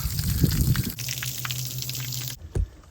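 Water gushes steadily into the hull of a Seadoo GTI jet ski, a loud, broad splashing rush that runs for a couple of seconds and then cuts off abruptly, followed by a last brief slosh.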